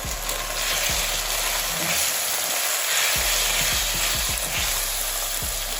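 Drained potatoes sizzling loudly in a hot pan for a chickpea and potato curry, a constant bright hiss and crackle with repeated scraping knocks as a utensil stirs them through.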